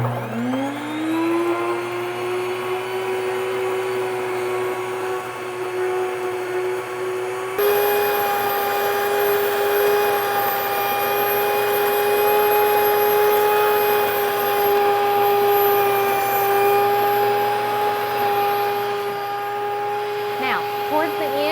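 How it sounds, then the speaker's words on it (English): A Nutrimill grain mill grinds wheat into flour with a loud, steady motor whine and whir that holds throughout, its tone stepping up slightly partway through as the grain runs. "when you're grinding your wheat, you're going to hear it take on a different pitch when all the grain has gone through"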